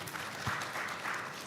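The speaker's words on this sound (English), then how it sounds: "Please a round of applause for him." Audience applause at a health financing policy panel, a short burst of scattered clapping at moderate level that fades in under a faint room hum.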